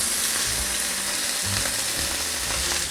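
Two strips of pork belly frying in a hot pan, giving a steady, close sizzle with soft crackling and occasional light scraping or stirring, with no voices.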